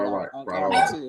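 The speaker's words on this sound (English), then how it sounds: "That's my dog." A dog barks and yips in short bursts, close by, mixed in with people talking over it.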